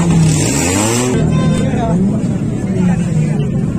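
A loud modified car engine revs up and down close by at a car show in Lahore, Pakistan, rising and falling in pitch with a throaty, aggressive tone.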